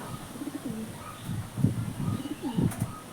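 Pigeons coo softly in a few low rounded bursts on a rooftop, fairly close, with faint chirps and light background hiss.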